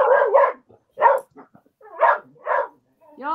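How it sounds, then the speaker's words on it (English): A dog barks in several loud, close bursts spread across the moment, with a person talking in between and around the barks. "Our dog's going nuts."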